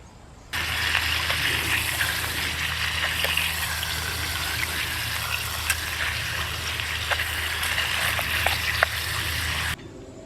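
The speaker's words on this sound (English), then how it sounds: "Just gonna pan fry that up." Food seasoned with Old Bay pan frying, a steady close sizzle with crackles and small pops, starting abruptly and holding evenly until it cuts off near the end.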